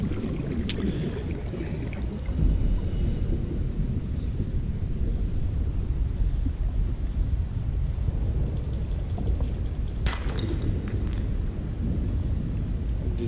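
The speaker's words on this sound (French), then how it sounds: "Des éclairs et tout." A thunder and lightning storm in the video game Subnautica Below Zero gives a constant low rumbling roar, with sharp crackling strikes near the start and again around two-thirds through, and no talk.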